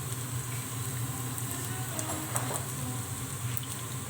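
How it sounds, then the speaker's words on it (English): Chopped onion sizzles steadily in a hot pan as it is stirred, a dense, even frying hiss with faint scraping through the whole stretch. "We stir the onion until onion change color from white to golden."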